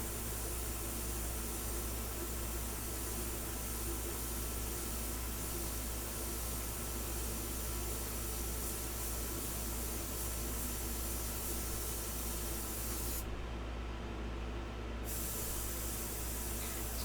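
Airbrush spraying India ink onto paper: a steady, close, continuous airy hiss with constant loudness, briefly changing in tone near the end.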